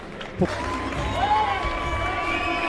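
Boxing crowd in Tours applauding and cheering boxer Jordy Weiss after his comeback win, a steady dense wash of clapping and voices with a brief shout near the start.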